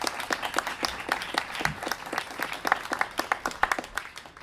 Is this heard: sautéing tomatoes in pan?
no